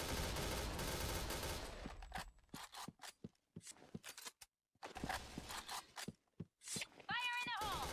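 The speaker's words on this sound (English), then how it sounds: "We see a lot of fire, gunfire, but no damage has been taken." Gunfire in a first-person shooter video game at a tournament finals, sharp bursts and scattered single shots with pauses between them, under loud excited commentary.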